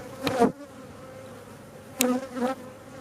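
Honey bees from an open hive, near and agitated, give two loud swelling bursts of buzzing, the first at the start and the second about two seconds later, with a softer steady hum continuing between them.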